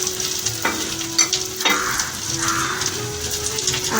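Potato and eggplant sizzle loudly in spiced oil for a tangra fish curry, a steady hiss of frying broken by a few stirs and clinks of the spoon.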